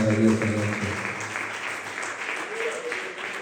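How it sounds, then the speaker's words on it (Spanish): Congregation applause at an evening church service breaks out after a brief bit of speech, a dense, steady wash of clapping that carries on through the rest of the moment. "¿Cuándo le demos un aplauso a Dios en esta maravillosa noche?"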